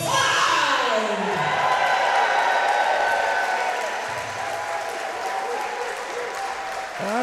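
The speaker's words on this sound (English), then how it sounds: "Another roar from the crowd to welcome Leon Cage and Shane Hook." An arena crowd at a Kingdom of Chaos 2025 wrestling show welcomes the tag team Rising Tide with loud sustained applause and cheering, whoops rising over the clapping, while announcers talk over the din.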